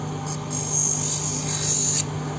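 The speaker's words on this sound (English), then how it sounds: "So it will give you straight line grinding." Hand grinding of a watch glass lens to a straight-line edge, giving a steady, close abrasive rasp with a thin high hiss that swells briefly and then eases, with no talking.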